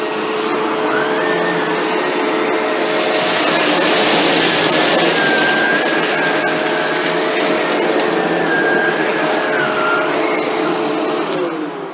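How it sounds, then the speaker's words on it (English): Shark Rotator NV752 vacuum cleaner running along baseboards, a loud continuous motor whine with a steady high tone that swells midway and stays constant, alone without talk. "how close to the baseboards does the vacuum get when you're vacuuming"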